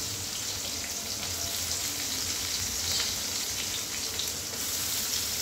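Onions frying in a couple of tablespoons of hot oil in a pan for a spicy Maharashtrian curry, giving a steady, dense sizzle that holds at an even level throughout with no talking.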